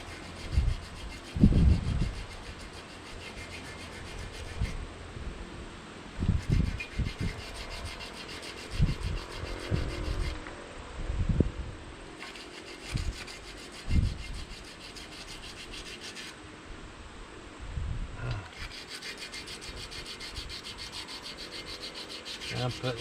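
Hand sanding on a diesel fuel return line of a Ford 6610 tractor, a dry rasping rub in repeated short strokes with light pressure, close and moderately loud, with pauses between bursts.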